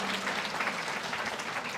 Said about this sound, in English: Put a round of applause for him.